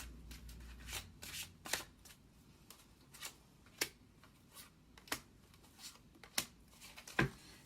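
Tarot cards from an 8th House Tarot deck being shuffled by hand, soft papery riffles and taps in an irregular rhythm, close and quiet with no talking.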